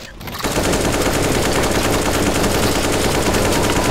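Continuous automatic gunfire from many players in Counter-Strike: Global Offensive zombie escape mode, a loud, dense, unbroken rattle of rapid shots from start to finish.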